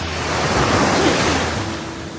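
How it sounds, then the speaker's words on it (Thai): Strong sea waves at Yanui beach, Phuket, rolling in as a loud, continuous roar of surf that swells and eases, with wind noise against the microphone and no talk. "คลื่นแรงมากเลยนะเนี่ย"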